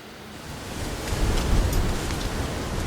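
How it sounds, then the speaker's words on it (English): Heavy rain pouring steadily, a dense, continuous hiss of downpour that swells slightly midway, with no talking. "It suddenly started raining really hard"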